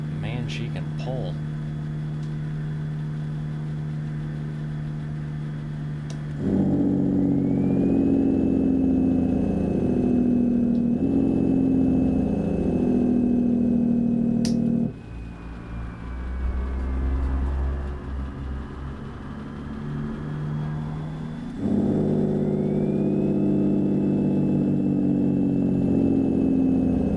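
A Kenworth W900 truck engine pulls hard in American Truck Simulator, a deep droning rumble that rises and falls through gear changes, with a voice talking over it in places.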